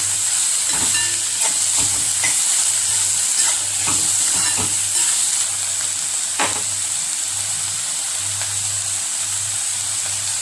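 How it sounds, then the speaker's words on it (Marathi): Vegetables for vermicelli upma are sautéed in a pan, a continuous close sizzle broken by repeated scraping stirs and soft clinks, with a faint low hum underneath and no talking. "ह्या भाज्या आता परतवून घ्यायच्या"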